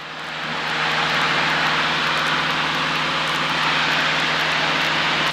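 A Cessna 152 piston engine in flight drones loud and steady inside the cabin, a constant propeller hum with no breaks.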